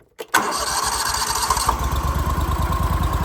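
A Hud-son Oscar 336 portable sawmill engine cranks briefly, catches and roars to life, then settles into a loud, steady running rumble close by.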